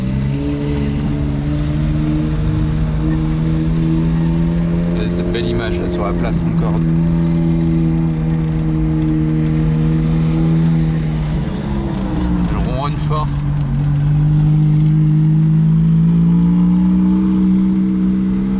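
Ferrari 430 fitted with an extra exhaust, engine note rumbling and rising in revs on a city square at Place de la Concorde, steady and fairly loud, with people talking over it.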